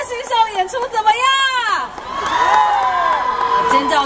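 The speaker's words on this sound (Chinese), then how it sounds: "尖叫声已经带 来" A crowd at a dance performance during a team fan-appreciation event screams and cheers loudly, high shrill shrieks rising and holding over a dense roar of voices.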